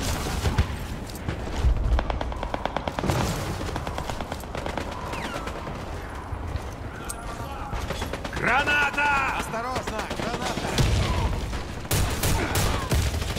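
Rapid gunfire from the Warface first-person shooter, with bursts of automatic weapon shots repeating through a busy game mix and someone talking over much of it.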